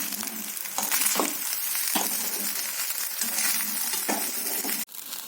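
Coconut rice is stirred in a pan over sizzling heat, with a steady hiss and soft scraping strokes of a spoon repeating at an easy pace, ending in a brief clink.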